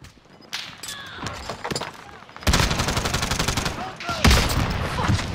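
Bursts of rapid gunfire from a battle royale video game, loud and sustained in the second half, with brief quieter shots and game effects early on.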